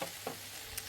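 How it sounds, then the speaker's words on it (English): Noodles fry and stir in a frying pan rather than a wok, giving a steady close sizzle with a couple of brief scraping stirs, no voices. "I just fry those up for about 5-7 minutes"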